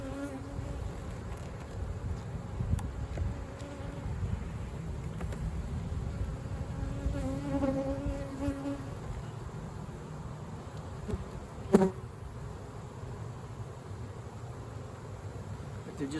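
Honey bees hum and buzz steadily around an open hive box during a beekeeper's inspection, a low continuous drone with occasional brief louder buzzes as individual bees pass close.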